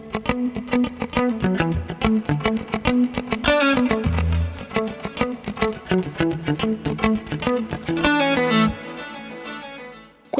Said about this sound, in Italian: questo è il suono della testata dritta